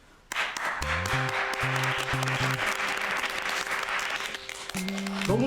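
Dense applause and clapping from a crowd fills the whole clip, with musical tones sounding underneath.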